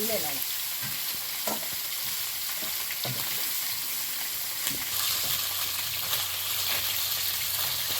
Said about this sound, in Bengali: তুলে লাল লাল করে ভাজা হয়ে যাচ্ছে